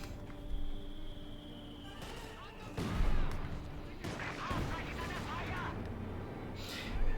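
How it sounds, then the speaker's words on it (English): Mortar fire and impact booms in a Company of Heroes 2 battle, with several heavy thumps and crashes over a rumbling backdrop, under continuous commentary voices. "As soon as he hears the thump of the mortar attack, he pulls his men back."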